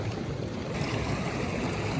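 Water flowing into a high alpine lake, a steady close rushing and gurgling of an inlet stream, constant and fairly loud with no voices.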